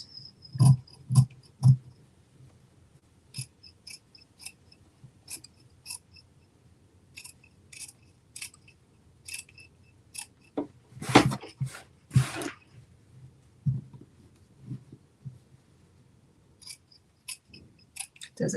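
Fabric being cut with scissors during sewing: a string of crisp, close snips in irregular bursts with pauses, some quick runs of cuts, heard alone in a quiet room.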